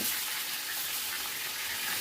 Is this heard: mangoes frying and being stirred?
yes